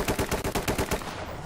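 Gunfire in the tactical shooter Ready or Not as police raid a suspect's house: a rapid string of about eight loud, close shots over one second, then fading reverberant tail.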